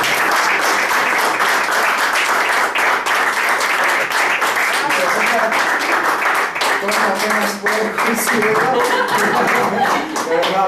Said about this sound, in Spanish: Me gustaría que nos diéramos un gran aplauso por esta sesión.